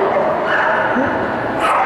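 A dog yips and whimpers excitedly on a course during an agility competition run, a short burst of high barking mixed with background crowd noise.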